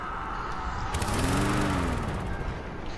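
A chainsaw revving in a video game, one loud sustained buzzing rev that rises and falls over a few seconds, close and dominant.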